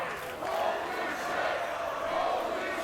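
A packed wrestling crowd at the JCW Pavilion during the Gathering of the Juggalos roars and cheers continuously, a dense, loud wall of voices that surges slightly mid-way and keeps going without a break.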